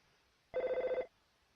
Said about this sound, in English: That appears to be a phone.